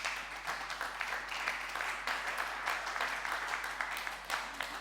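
A church congregation applauds the Lord, dense and continuous clapping from many hands that holds steady at full intensity throughout, with faint crowd voices mixed in.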